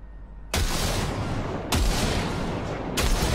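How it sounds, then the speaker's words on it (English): Three short bursts of gunfire in Cyberpunk 2077, each a sharp, loud, close blast trailing into a sustained rattling roar, spaced roughly a second apart with no talking. "Fire a short burst into it."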